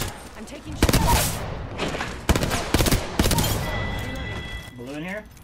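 Bursts of rapid gunfire from Apex Legends crack out loud and close in several volleys, with a player's voice talking over the shooting.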